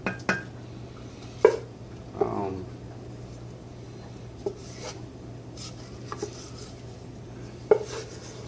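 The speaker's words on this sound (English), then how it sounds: "Try to scrape out as much as this as I can." A utensil scrapes thick homemade faux makgeolli out of a container, giving a few scattered scrapes and knocks spread across the clip, moderately close, with a steady low hum underneath and a voice speaking briefly.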